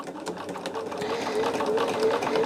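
A sewing machine stitches quilt blocks at a slow, steady pace, its continuous close hum and rapid needle clatter running throughout with a faint voice in the background.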